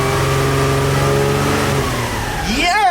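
A Nissan 350Z engine running after a crash repair, a loud steady close engine drone that climbs in pitch as it revs near the end, with a voice over it.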